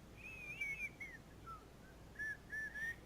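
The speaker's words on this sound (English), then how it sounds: "Nate, you can hear the whistle." Faint, distant eerie whistling carrying across a quiet open space, with a few wavering high tones drifting up and down before a brief pause and another rising run of notes, no talk.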